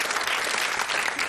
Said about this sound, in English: I'm going to ask you now to give another round of applause for 3 new contestants